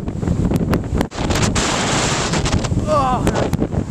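Beach waves wash in closer on a cold, windy shore, a loud rushing hiss of surf mixed with heavy wind buffeting the microphone, with a brief dropout and a faint voice near the end.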